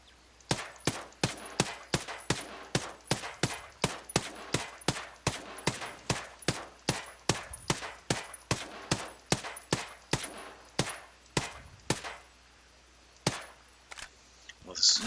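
Assault rifle fire in Ghost Recon Breakpoint: loud, evenly spaced single shots in a long rapid string, a brief gap near the end, then a few more shots.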